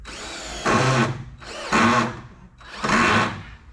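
A cordless power drill drives a screw during window prep on a DIY barndominium build, with three short whirring bursts separated by brief pauses, close and fairly loud, with no talking.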